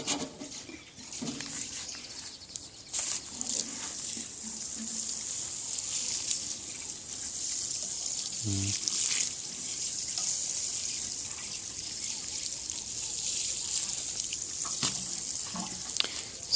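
Water poured onto soil over newly planted papaya seeds in semi-dry land, a soft steady trickle and splash, faint and continuous, with a few light knocks.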